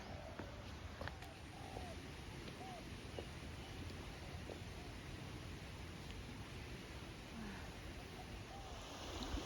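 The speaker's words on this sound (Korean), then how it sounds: "아, 물소리 들으니까 좋다" The Pai River flowing in Thailand, a soft continuous rush of water heard from nearby at low volume, with a few faint bird chirps above it and no talking.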